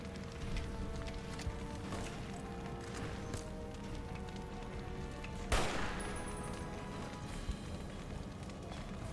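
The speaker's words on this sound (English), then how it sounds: "let's do sniper rifle" Video game gunfire from a sniper rifle, with a loud sharp crack standing out midway over a steady din of background battle noise and scattered smaller shots.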